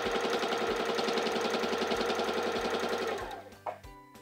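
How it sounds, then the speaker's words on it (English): A Singer Simple 3337 sewing machine stitches through fabric with a loud, steady, rapid mechanical chatter that runs for about three seconds, then slows and stops with a few faint clicks. "press down on your foot control to start sewing"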